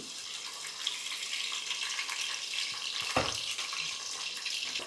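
Onions and green chillies frying in oil for a village-style fish pulusu, a soft continuous hiss with small crackles and one sharp clatter midway.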